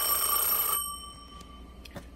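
Electromechanical bell ringing on a Seriss Corporation 1A2 multiline key system telephone, a bright metallic jangle that rings for under a second and then stops, leaving faint room noise and a couple of small clicks.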